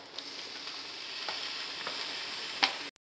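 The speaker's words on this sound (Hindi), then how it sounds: "चावल हम फ्राई कर लेंगे जैसा कि हम फ्राइड राइस करते हैं।" Cooked rice stir-fried in a hot pan with salt, crushed black pepper and soy sauce, a soft, steady sizzle with faint scraping stirs and a sharper clink near the end before it cuts off.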